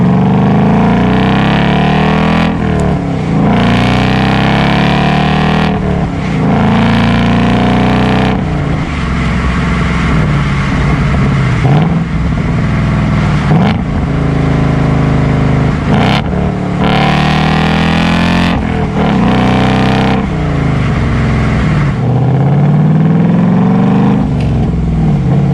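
A 2022 Ford Mustang GT Premium California Special with a V8 and six-speed manual revs loudly and close up through its exhaust, rising and falling in repeated throttle blips with no talk.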